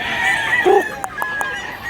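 A rooster crows once, loud and close, at a busy outdoor chicken market, with faint background bustle and a few sharp clicks afterward.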